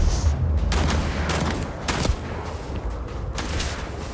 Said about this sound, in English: Shooting him was an accident.